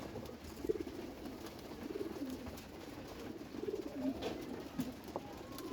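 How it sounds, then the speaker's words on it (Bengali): Pigeons at a cage give soft, repeated low cooing in a gentle rhythm, faint and close, with light rustling and no talk. "খাঁচার ভিতরে খাবার দিব কবুতরকে"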